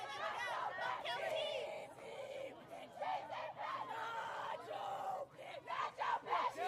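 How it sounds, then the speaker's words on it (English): A crowd of fans at a high school state championship softball semifinal chants and yells a cheer in loud, rhythmic bursts, voices rising and falling together over steady background chatter. "Ruth just gets angrier and angrier with her delivery of that cheer."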